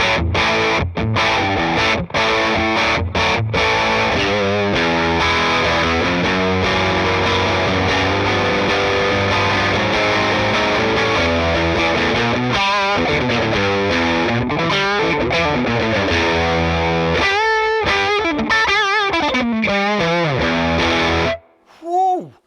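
Electric guitar run through an Xotic SL Drive overdrive pedal dialed to its Super Bass voicing, a loud, continuous distorted tone with chords and riffs, bends and sliding notes toward the end before a sudden stop.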